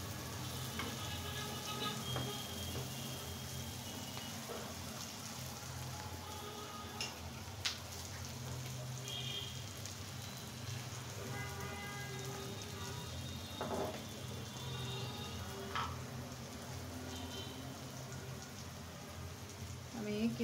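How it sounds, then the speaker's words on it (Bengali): Stuffed bitter gourd fries in oil with a steady, even sizzle and crackle that runs throughout at low volume, with occasional faint clinks and a voice speaking quietly over it. "এটা ফ্রাই হতে থাক"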